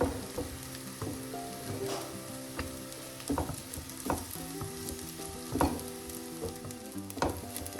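Chili-spiced marinated chicken is sautéed in a pan for a small onion chicken curry, a constant close sizzle broken by regular scraping stirs every second or so, with no voices.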